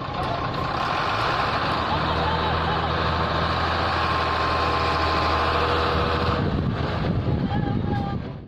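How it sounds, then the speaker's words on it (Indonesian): A toy sand truck gives out a steady, loud engine hum with reversing beeps for most of the stretch, then stops abruptly near the end. "Wow, lihat teman-teman, di sini ada mobil truk pasir"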